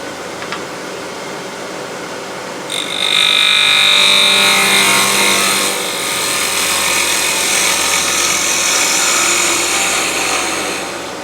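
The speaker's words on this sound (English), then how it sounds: "we can use a bowl gouge for that. I'm going to take one more pass at that." Bowl gouge cutting wood on a lathe during multi-axis turning, a close rough scraping hiss that starts abruptly and holds steady for several seconds before easing slightly, with no talk.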